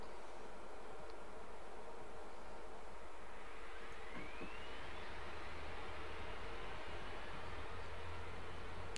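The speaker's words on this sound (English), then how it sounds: "so let's start the left engine first" A helicopter's left engine spins up in the DCS flight simulator, a steady, even turbine roar with a faint rising whine, heard alone without talk.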